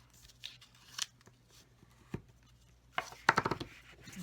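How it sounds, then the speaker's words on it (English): Paper box scored for a flip top being folded and burnished along its score lines, giving scattered soft creases, rubs and crinkles with a few sharper crackling bursts near the end, close and fairly quiet with no talk. "So just fold and burnish all the way on your box here."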